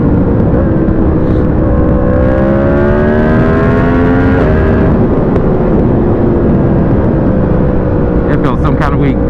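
Yamaha MT-10 motorcycle, a 2020 model, pulling hard in third gear, its engine note climbing steadily through the revs under heavy wind roar before easing off near the end.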